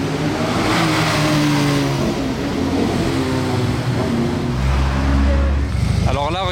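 A Porsche 911 ST drives past in a busy street among supercars, its engine revving loudly and steadily over crowd noise and nearby talk.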